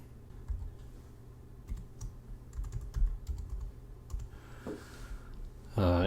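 A password is typed on a Mac keyboard as a string of soft, irregular key clicks at close range, ending in a brief louder tone.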